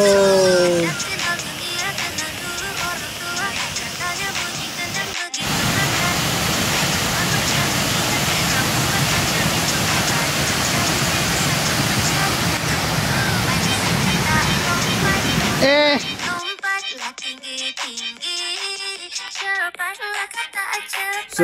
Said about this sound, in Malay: Hujan selebat-lebatnya.